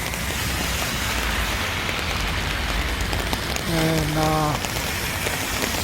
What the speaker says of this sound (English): As you can see, it's raining.